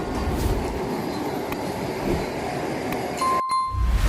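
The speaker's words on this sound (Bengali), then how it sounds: "এখন আমাদের সামনে দিয়ে চলে যাচ্ছে হাওড়া নিউ জলপাইগুড়ি বন্দে ভারত এক্সপ্রেস" A Howrah–New Jalpaiguri Vande Bharat Express runs through a station without stopping, with a continuous nearby rumble and rattle of rail cars and a brief ringing chime near the end.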